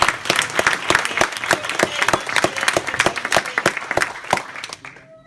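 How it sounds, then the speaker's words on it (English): Applause at a Glasgow pre-launch event, a lively burst of clapping with distinct sharp claps close by that fades out quickly at the end. "So a big, massive round of applause."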